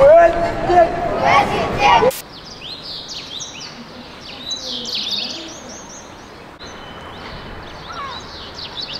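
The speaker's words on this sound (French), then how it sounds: "Le chant des oiseaux, le calme, la sérénité qui se dégage de ce lieu ici à Tanger" Songbirds chirp and twitter around a guesthouse terrace in Tangier, short bright calls scattered at a moderate distance over calm background ambience, following a brief burst of loud voices at the start.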